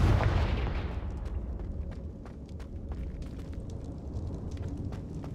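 A Confringo spell explosion in the video game Hogwarts Legacy, a loud booming blast that decays over about two seconds into a rumbling tail with scattered crackling debris.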